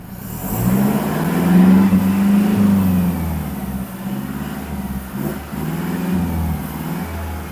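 A car with an aftermarket exhaust, recorded close to the tailpipe, revs up to about 2500 rpm and holds there. The loud, deep engine drone rises, dips briefly and then holds steady, with no voices over it.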